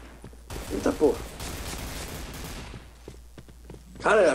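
AK-47 bursts in the online shooter Point Blank, a rapid fusillade of several shots close by, mixed with game effects and someone talking over the action.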